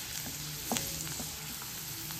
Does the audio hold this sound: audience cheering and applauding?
no